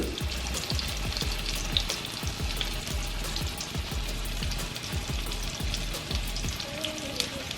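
Beef sizzles and fries in butter with masala in a hot pan, a steady dense crackle with rain-like spatter and occasional stirring scrapes, close and continuous.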